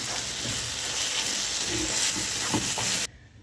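Merguez sausage pieces and peppers fry in a pan with a loud, steady sizzle and hiss, up close and without talk, until the sound cuts off abruptly near the end.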